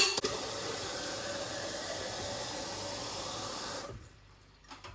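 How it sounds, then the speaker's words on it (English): Tap water runs steadily into a water bottle, a soft, even hiss and splash for about four seconds before it stops and a faint clunk follows. "I was going to fill my water bottle up."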